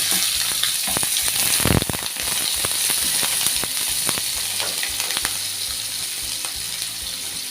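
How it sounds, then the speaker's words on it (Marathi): A large, finely chopped onion sizzles and crackles steadily in hot oil for tempering, a loud close frying hiss with occasional sharp pops and a brief burst of stirring. "एक मोठा कांदा घेतलेला आहे आणि तो बारीक असा कापून घेतलेला आहे तो घालूया फोडणीसाठी"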